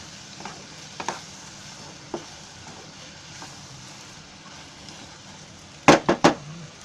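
Masala fries in oil for a cashew curry, a soft continuous sizzle with occasional light spoon taps, then a loud cluster of stirring scrapes against the pan near the end, close by and with no talk.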